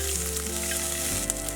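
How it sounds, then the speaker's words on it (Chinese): Chopped scallions and ginger slices sizzle in hot cooking oil inside a clay pot, a steady close frying hiss holding evenly throughout with no voices. "砂锅里面倒点食用油，油热放入葱花和姜片儿"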